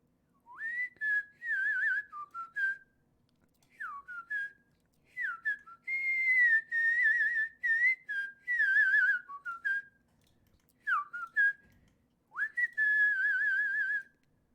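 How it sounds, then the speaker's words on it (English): A person whistles a well-known tune alone, in clear melodic phrases with short pauses between them, close and fairly loud. "So we'll go ahead and get a good whistle on in here."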